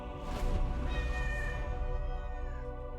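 A pet cat lets out one long, drawn-out meow close up and loud, wavering like a caterwaul and holding for several seconds, with no talk over it.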